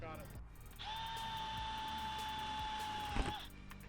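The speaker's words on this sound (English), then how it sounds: "About to pre-drill into one of the channels." A power drill pre-drills into a channel of a bronze pergola roof panel, whining steadily for about three seconds at close range before stopping, with faint handling clatter around it.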